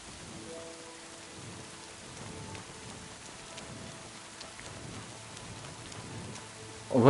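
Steady rain falls in the medieval video game Kingdom Come: Deliverance II, a soft constant hiss with faint low rumbles, heard alone at moderate level, with a louder sound rising at the very end.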